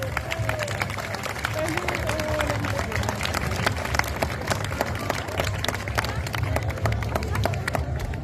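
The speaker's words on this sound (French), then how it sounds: "Sous vos applaudissements," A crowd applauds at the costumed grand parade of the Provins medieval festival. The clapping is dense and steady for the whole stretch, with a murmur of crowd noise beneath it.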